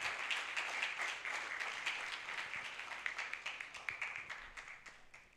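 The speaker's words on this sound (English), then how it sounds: "Let's applaud Dr. Mitch once again." An audience at a campaign launch event applauds to welcome a speaker, a sustained burst of many hands clapping that gradually thins and fades over several seconds.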